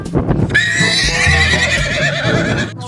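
A pony gives a loud, close whinny that rises and trembles for a couple of seconds, with a few soft thuds at the start.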